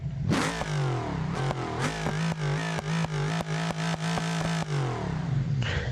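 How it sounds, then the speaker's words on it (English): A Hellcat Demon drag car in the BeamNG driving game revs hard in first gear while spinning its tires, a loud rising engine roar with rapid stuttering pulses from limiter or wheelspin, close and sustained without talk. "put it in first, and spin the tires"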